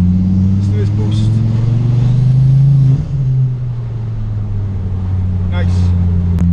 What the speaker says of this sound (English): Can control the exhaust rattle noise and stuff, the pops and the bangs.